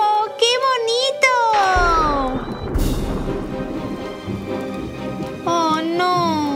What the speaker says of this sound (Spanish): Ahora llueve más.